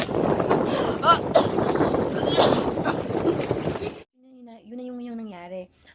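Strong wind buffets the microphone at a lakeside campsite in Lakes Entrance, Australia, a loud continuous roar for about four seconds before dropping away as a voice speaks alone.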